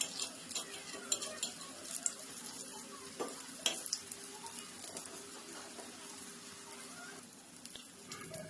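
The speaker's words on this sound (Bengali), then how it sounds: "তো ওপর থেকে কিছুটা আমি তেল দিয়ে দেবো এরপর উল্টে পাল্টে ভালো করে ভেজে নেবো" Soft sizzling of soybean cutlets frying in oil, faint and continuous, with occasional light clinks of a utensil against the pan.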